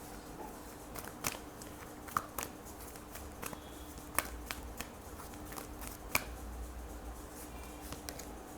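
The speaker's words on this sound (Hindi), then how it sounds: "I'll shuffle again." Tarot cards are shuffled by hand, a series of soft crisp riffles and slaps at irregular intervals, fairly quiet and close, with no talking over them.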